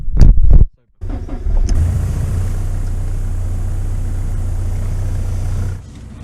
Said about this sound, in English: Time to hopefully start the car up.